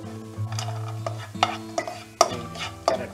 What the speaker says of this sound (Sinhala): ඉස්සෙල්ලා බිත්තර එක තමයි අපි හොඳට ක්‍රම්බල් කරන්න ඕනේ.